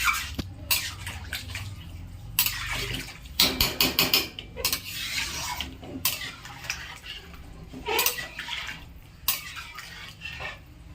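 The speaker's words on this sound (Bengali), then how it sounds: "গরম জলটা দিয়ে দেবো" Hot water is poured into an egg curry in a pan, splashing in uneven bursts mixed with clinks and clatter of kitchenware, close and fairly quiet.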